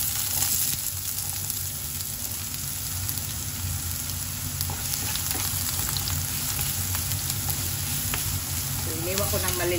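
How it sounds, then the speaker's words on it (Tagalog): Garlic and onion sauté in a hot pan with a dense, loud, rain-like sizzle that runs continuously, with faint stirring clicks and a hint of voice near the end. "So, let's saute our garlic."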